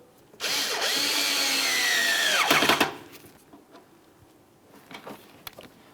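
A power drill drives a Phillips head mounting screw up through the bumper cover of a 2006-2012 Ford Fusion, a single close whirring run of about two and a half seconds that bogs down as the screw seats, followed by faint handling clicks.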